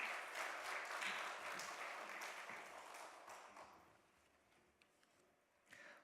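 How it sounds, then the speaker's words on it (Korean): A church congregation in Dallas claps to welcome testimony speakers at a Sunday service, with moderate sustained applause that fades out after about four seconds, leaving quiet room sound and a brief bump near the end. "우리 간증할 분들 박수로 먼저 환영하시겠습니다."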